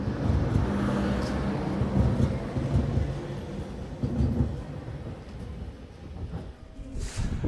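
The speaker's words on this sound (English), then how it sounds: "Well, let's see the train off," A rural train pulls away from a small station on a Hokkaido line. A low, broad rumble of wheels and engine carries through steady, fairly distant noise, with no talk.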